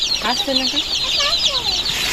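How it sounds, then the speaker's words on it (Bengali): Several chickens cluck in short bursts close by, with a steady higher-pitched background of chirping birds throughout. "এই যে মুরগি।"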